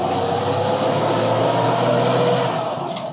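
The engine of a 1978 Toyota FJ44 Land Cruiser with a canvas top pulls steadily under acceleration on the street, a loud continuous low drone that eases slightly at the end.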